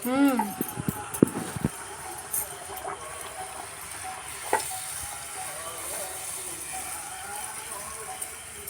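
Puri frying in hot oil gives a steady soft sizzle with a few brief clinks early on, and a voice speaks near the start.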